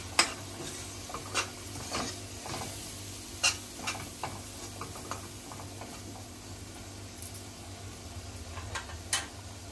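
Ground masala paste sautéed in a pan with the stirring for Marathi birda vanga: a constant soft sizzle and frying hiss, punctuated by intermittent spoon scrapes and clicks against the pan.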